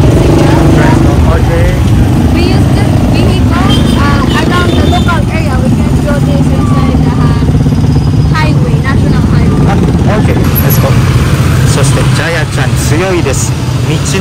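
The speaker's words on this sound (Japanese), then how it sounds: "こんな感じでトライシクルもいっぱい走ってますね" Motorized tricycles and traffic rumble along a busy Manila backstreet, a loud, constant engine drone with passing vehicles throughout, while people talk over it.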